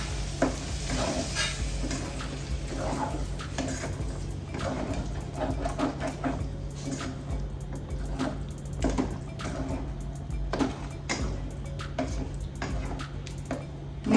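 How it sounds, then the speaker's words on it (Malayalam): Rajma masala with tomato and chili is stirred and fried in a pan, a steady sizzle with scraping spoon strokes and faint drips running throughout, close and without speech. "എല്ലാം നല്ലതുപോലെ ഒന്ന് മിക്സ് ചെയ്യാം."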